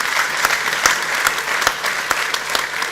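Applause from the audience at the opening keynote of a sports ethics and leadership summit in Basel, a steady dense clapping that fills the room for the full length, with a few sharper claps standing out near the front.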